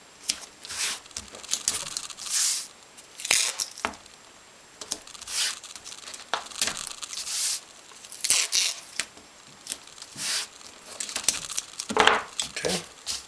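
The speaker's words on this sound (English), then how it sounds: "Now I'm going to tape all the way around the image." Strips of tape pulled, torn and pressed down around a framed drawing, with crinkly tearing bursts and soft rubbing in an uneven rhythm, close and fairly quiet.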